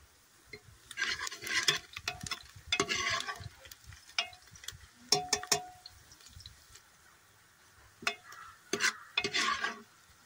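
Onions fry in a pan for a Kashmiri kohlrabi dish, heard as bursts of close stirring and scraping over a soft sizzle, with brief quiet gaps between.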